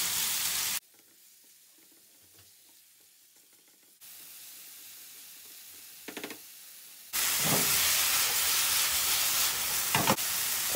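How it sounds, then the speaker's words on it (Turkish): Diced chicken pieces frying in a pan and stirred over the heat for a Turkish chicken and eggplant kebab, with loud broadband sizzling that drops to near quiet and then returns strongly, with brief stirring scrapes. "Çevire çevire kavuracağız."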